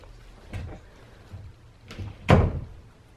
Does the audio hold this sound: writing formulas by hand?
no